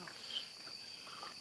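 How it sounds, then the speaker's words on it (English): Crickets and frogs at night make a dense, steady high chirring trill, faint and continuous, with no other sounds. "I think it's just frogs and crickets."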